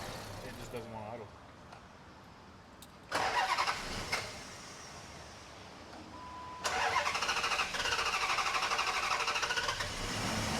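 V8 Dodge Charger with an idle fault cranking on its starter and catching, bursts of starter whine and engine roar that settle into a loud, steady run after a pause.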